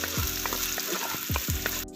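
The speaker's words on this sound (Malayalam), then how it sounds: "ഇനി നമുക്കിതിലേക്ക് കുറച്ച് കറിവേപ്പില ഇട്ട് കൊടുക്കാം." Curry leaves dropped into hot oil with green chillies for Kerala fish molee, loud close spluttering sizzle with several sharp bursts and stirring scrapes across two seconds, cutting off at the end.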